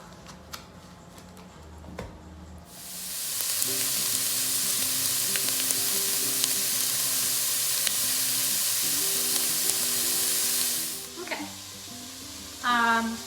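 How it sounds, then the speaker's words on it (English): Mild sausage fries in a pan with a loud, steady broadband sizzle that starts abruptly a few seconds in and holds before cutting off, with a faint voice underneath and a short clatter at the end. "So we're gonna fry this up."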